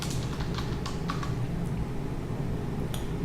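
Keys tapped on a computer keyboard while entering a short line of text, a quick run of close clicks over a steady low hum, with no talking.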